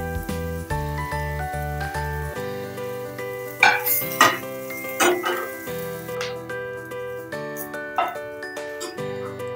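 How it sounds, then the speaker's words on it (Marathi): Onion and coconut roast in a pan for a spicy vada rassa, with scattered metallic scrapes and clinks of stirring and a soft sizzle under steady background music. "कांदा थोडासा भाजलेला आहे आपला। आता त्यामध्येच आपण खोबरं टाकू।"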